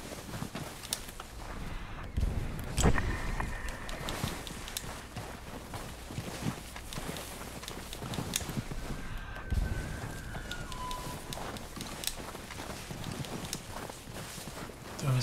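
Horse hooves plod through Red Dead Redemption 2, irregular clip-clop and footstep thuds with a few louder knocks, mixed with ambient game noise and brief tonal effects.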